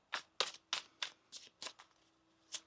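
Tarot cards are shuffled by hand in a series of about eight quick riffling bursts with short pauses between, close and fairly quiet, no talk.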